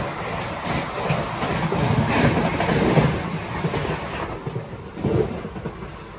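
A passing train crosses the moving Andaman Express close by with a swelling rumble and rattling carriages that rise, hold and fade, then a final surge near the end.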